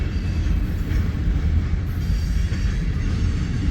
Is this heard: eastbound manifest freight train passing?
yes